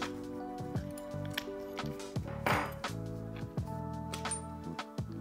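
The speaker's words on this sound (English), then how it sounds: "So we're gonna try to pull this little seal out here." Small plastic seal being pried out of a ProFurl sailboat furler with a screwdriver, a series of close, sharp clicks and scrapes with short squeaks and one louder rasp midway, irregular and with no voices.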